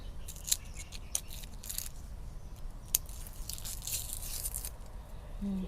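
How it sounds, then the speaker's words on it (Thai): A knife is run down a shoot of shampoo ginger (kra-thue) to peel it, making soft scraping strokes and a few sharp crisp snaps over a steady low background hiss, close and fairly quiet. "ใช้มีด ปักลงไปตรงนี้ระวังมือด้วยจ้ะแล้วก็ค่อยๆรูดไปเลย ปอกเปลือกเพิ่น"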